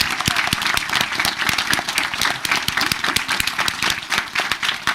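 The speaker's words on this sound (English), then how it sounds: "So let's give them a nice round of applause" Audience applause at a township committee meeting, with many hands clapping close by in a lively, uneven patter of distinct sharp claps that stays steady throughout without speech.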